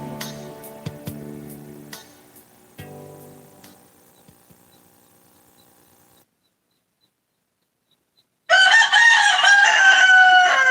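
A rooster crows loudly and close by in one sustained burst near the end, after a stretch of quieter clucking and soft background sounds.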